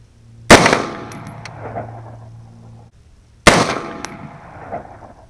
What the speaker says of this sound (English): We'll shoot them in rounds of 5